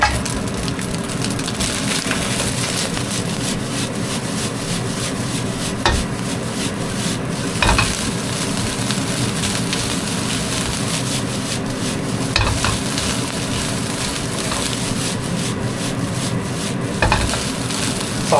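Egg fried rice is stir-fried in a wok, with a steady dense sizzle and continuous scraping and stirring throughout, broken by a few sharper clinks of the spatula against the pan.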